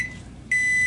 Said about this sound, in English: sets off the little buzzer when it gets down to 0